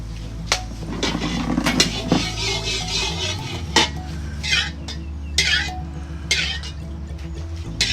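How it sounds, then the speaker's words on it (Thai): A metal utensil scrapes and clatters against a pan as southern Thai curry paste is stir-fried in oil, with sizzling hiss rising in bursts and a low burner hum early on. "นี่เรามาผัดเครื่องแกงให้หอมก่อนนะครับ"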